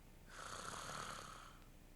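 A man imitates a person snoring in sleep with one drawn-out, raspy nasal inhale lasting over a second, faint and close, with no other sounds.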